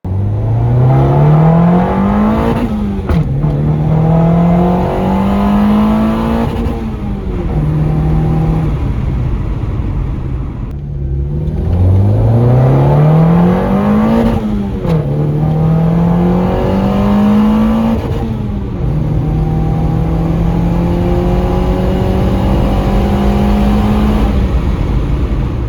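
A turbocharged Honda D16Z6 engine pulls hard through the gears on a test run, the pitch climbing steadily, dropping at each shift and climbing again, loud and close with no talk.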